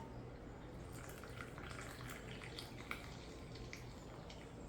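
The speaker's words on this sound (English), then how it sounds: "Let's pour some water." Water poured into a gourd of Cruz de Malta Edición Especial yerba mate: a faint, steady trickle with scattered soft drips over low background hiss, no voices.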